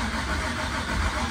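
A Camaro engine cranks over on the starter with the coils unhooked, so it never fires, giving a dense, steady churning drone for a brief moment, close and continuous.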